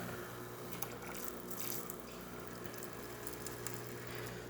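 A quiet, steady stream of hot water runs from a Saeco coffee machine, with a faint mechanical hum beneath it.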